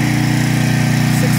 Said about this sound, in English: I'm gonna walk past this generator.